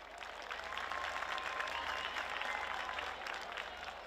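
Applause from a crowd at a tape-ball cricket league pre-final show, a soft, even wash of clapping held steadily for a few seconds with no voices over it.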